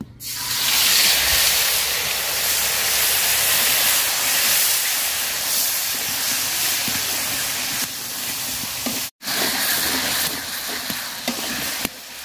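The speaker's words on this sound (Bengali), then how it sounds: "তো মশলাটা আমি সুন্দর করে ভাজা নিচ্ছি," Ground spice paste frying in a pan, a loud burst of hissing sizzle at first that settles into a steady crackle with occasional stirring scrapes, close up, with a momentary dropout near the end.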